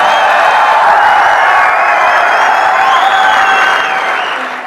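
Enthusiastic audience applause at a motivational talk, loud and sustained clapping with a few cheers, steady for several seconds before fading slightly at the end.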